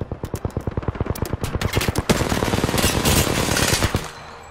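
Repeated loud shotgun blasts from the Mastiff in Apex Legends, fired in a fast steady rhythm, then a dense burst of overlapping gunfire and impacts toward the end.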